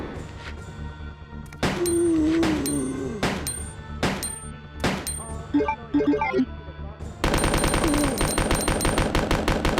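Gunfire in Resident Evil 2, a series of loud sharp shots at irregular intervals that give way to a dense rapid automatic burst, with a little background clutter between the shots.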